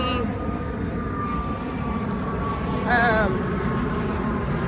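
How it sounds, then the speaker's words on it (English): An airplane passes overhead on a half-marathon race morning, a continuous loud engine roar with a whining tone that swells slightly near the end, heard alone without talk. "Every 5 seconds there's an airplane."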